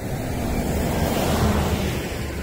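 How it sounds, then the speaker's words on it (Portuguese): Strong wind roars steadily and loudly outdoors on a street in Humahuaca, Jujuy, Argentina, buffeting the microphone in a continuous broad rush with no other sounds standing out. "que aqui venta muito"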